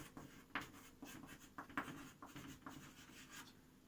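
Pen scratching on paper while a Class 12 maths exercise on continuity is written out, a faint, steady run of short strokes with no talking.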